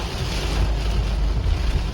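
Storm-chase wind beneath a supercell circulation in Pennsylvania and New York blows in a loud, steady rush with low rumbling microphone buffeting that swells slightly midway.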